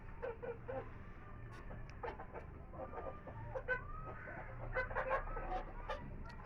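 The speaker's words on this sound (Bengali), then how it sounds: "মুরগিগুলো খাচ্ছে, এই দেখো বন্ধুরা, এদের কতটা খিদে পেয়েছিল" Hungry chickens cluck steadily while feeding indoors, a busy overlapping stream of short calls near and far over a low rumble of background noise.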